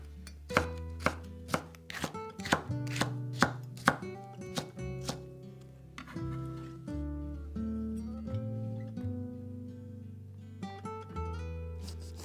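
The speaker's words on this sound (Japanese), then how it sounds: "ピーマンはヘタと種を取り細切りにします。" Green peppers are sliced into thin strips with a knife on a cutting board, giving a quick series of crisp, close chops in uneven bursts, quieter near the middle, with no talking.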